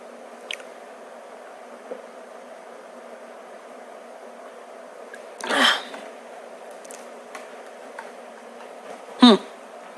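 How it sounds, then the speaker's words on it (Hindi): A woman coughs twice during an indoor lesson, two separate sharp, close bursts a few seconds apart against a quiet room hum. "बहुत खांसी आ रही"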